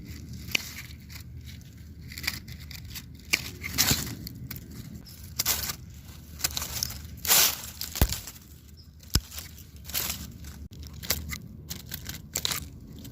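Dead white salvia stems snipped with garden shears outdoors, a series of sharp crunchy cuts at an irregular pace, close and moderately loud, with rustling of dry stalks between snips.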